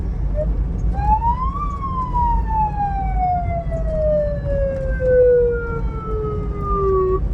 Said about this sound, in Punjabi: ਐਂਬੂਲੈਂਸ ਆ ਗਈ ਤੇ ਫਾਈਬਰ ਬ੍ਰਿਗੇਡ ਵਾਲੀ ਵੀ ਹੈਗੀ